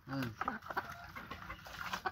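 Pet chickens cluck softly while being given water, a few short clucks close by and fairly quiet, with a voice murmuring nearby.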